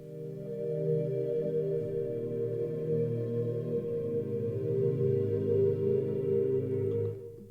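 A soft, sustained ambient pad from the free Serenity VST synthesizer, with gently shifting low chords, smooth and continuous, fading out at the end.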